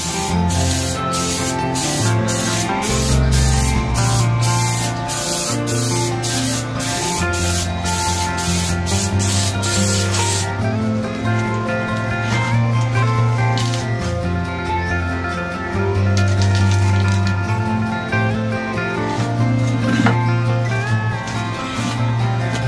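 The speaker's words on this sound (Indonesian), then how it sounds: "Oke, kita semprotkan teman-teman." Clear gloss lacquer with activator sprayed onto a full-face helmet, a steady close hiss in bursts with brief pauses over background music, no talk.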